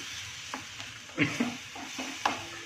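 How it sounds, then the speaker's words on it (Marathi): Gravy poured into a hot tempering in a pan and stirred, a close sizzle with several soft scraping strokes of a spoon over a short stretch, no talking. "आता आपण ही जी ग्रेव्ही बनवून घेतलेली आहे ती आपण टाकायची आहे त्याच्यामध्ये आणि याला ढवळून घ्यायचं आहे"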